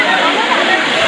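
A natural waterfall fills the moment with a loud, steady, close rushing roar of falling water, continuous and unbroken.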